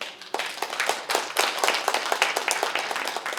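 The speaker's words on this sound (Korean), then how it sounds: "학술회의를 여러분의 박수로 시작하겠습니다." An audience at an academic conference applauds steadily, many hands clapping in a dense, continuous patter for several seconds, with no talking over it.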